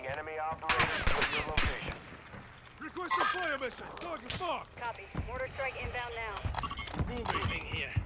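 Gunfire at an AI bot in the Call of Duty DMZ video game, with a quick burst of sharp shots followed by scattered single shots and combat noise while several players talk over it.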